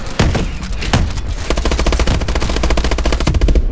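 Rapid automatic gunfire from the Call of Duty: Advanced Warfare video game on PC, in a Bio Lab mission, with dense bursts of shots rattling almost continuously and loud, with a few heavier isolated shots near the start.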